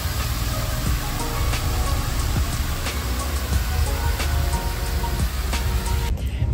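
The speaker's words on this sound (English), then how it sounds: "It's raining again." Constant hiss of rainfall in Chicago with scattered sharp drips and patters on nearby surfaces, a low rumble of distant traffic underneath.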